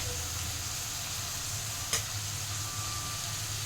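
Chili and salt being stirred into onion and jinga frying in a pan, giving a steady soft sizzle with a faint scrape of the spoon partway through, recorded close but at low volume.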